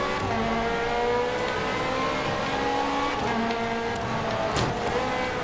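Ferrari 458 Italia, the Risi Competizione race version, driven in Forza Motorsport 5, its engine revving and rising, then dropping on shifts. It stays steady and moderately loud, with a brief squeal of tires near the end.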